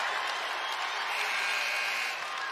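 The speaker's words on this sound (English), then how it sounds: "You hear the crowd and the energy bubbling in this third quarter." A women's college basketball arena crowd roars in a steady, broad wash after a blocked shot during the third quarter of an Indiana Hoosiers game, sustained and fairly even for the whole stretch, with no distinct voices standing out.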